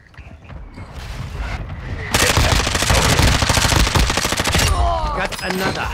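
An MP5 submachine gun fires in a first-person shooter game as a loud, rapid sustained burst of several seconds, close and dense, followed by mechanical clicks and fainter shots.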